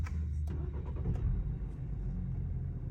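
A BMW car heard from inside, a low engine rumble with a few faint clicks and knocks, steady and moderately quiet with no talking.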